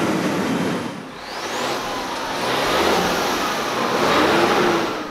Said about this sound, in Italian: Sentite la musica del 6 cilindri linea FPT Industrial. Diamo anche una bella sgasata che non guasta mai.